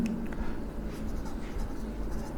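Chalk or marker scratches steadily across a board while a maths equation is written out, soft continuous strokes close by over a low background hum.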